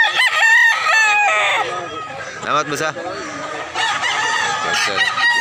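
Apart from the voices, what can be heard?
rooster crowing at a chicken market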